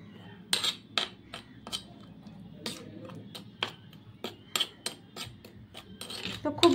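Spices mixed with turmeric, salt and oil in a bowl for an egg dish: a spoon clinks and scrapes against the bowl in irregular sharp taps over a low background hum, some clusters of quick strikes near the end.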